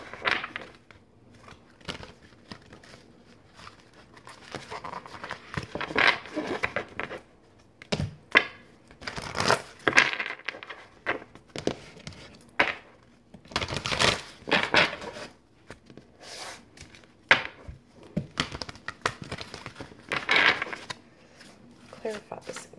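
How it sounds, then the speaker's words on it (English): A deck of tarot cards is shuffled by hand close up, with repeated brisk riffling and slapping bursts coming in uneven clusters, sometimes under a person talking. "Oh, this deck is so hard to shuffle."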